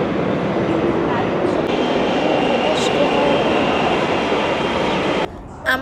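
A Delhi metro train rushes through the RK Ashram station area with a loud, steady roar that holds for several seconds before cutting off abruptly near the end.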